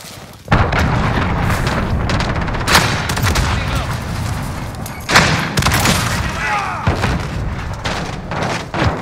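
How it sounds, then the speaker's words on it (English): Heavy blasts and booming impacts from a cruise missile strike in Call of Duty Modern Warfare team deathmatch multiplayer, dense rumbling explosions over scattered gunfire, with a voice speaking now and then. "Allied cruise missile launched."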